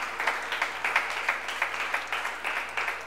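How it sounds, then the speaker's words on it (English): A church congregation claps during a Sunday service, with quick, fairly even claps repeating steadily and moderately faint throughout. "Come on, let's give Jesus a round of applause."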